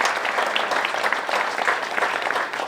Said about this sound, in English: So I ask you to give them a round of applause as well.